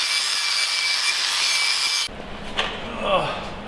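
Paint is scraped and abraded off custom 10-into-1 exhaust headers for a V10 BMW E46 M3, first as a steady harsh grinding hiss, then as rougher close scraping and rubbing strokes.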